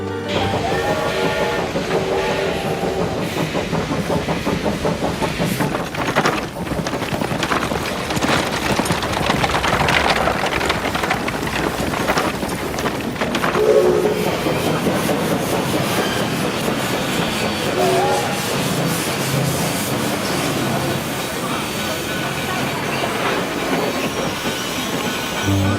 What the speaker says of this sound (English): Does this train go anywhere near Gettysburg?